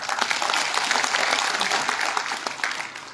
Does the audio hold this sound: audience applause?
yes